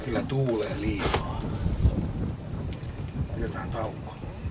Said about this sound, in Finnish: Kyllä tuulee liikaa.